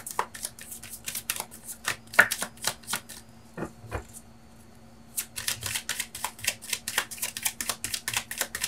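Tarot cards being shuffled for a reading, rapid riffling bursts of card flicks up close, then a brief quiet pause before another long stretch of quick shuffling.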